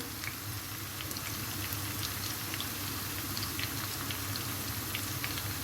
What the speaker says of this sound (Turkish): şu an suyum kaynamaya başladı